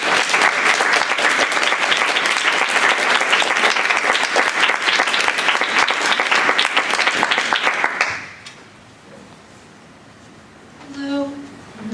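Audience applause at a poetry reading for poet Sara Nicholson, a loud, dense burst of clapping that stops abruptly, leaving a quiet room where a voice begins speaking.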